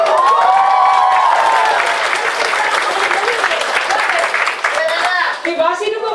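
A lively crowd at a business presentation bursts into loud applause with some cheering, the clapping dense at first and thinning slightly toward the end, while a voice carries over it.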